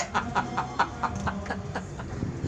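A chicken clucks in a quick, even series of short calls, moderately close against a low background murmur.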